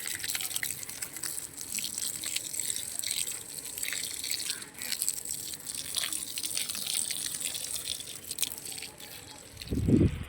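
Water pours and trickles steadily while marigold plants are watered in a garden. The splashing and dripping sound continuous and close, with a brief thud near the end.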